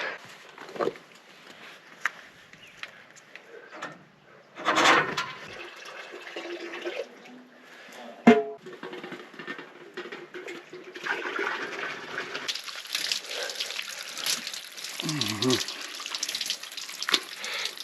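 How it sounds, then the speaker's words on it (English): Shower water running steadily at a bush camp in Botswana, a continuous hiss of spray with a few louder splashes and knocks, close and moderately loud throughout. "Time for a shower."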